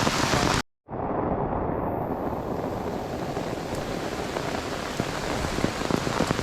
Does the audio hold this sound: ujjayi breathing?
no